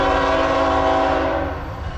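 A loud, sustained train horn blares close by, holding a rich chord before fading slightly toward the end.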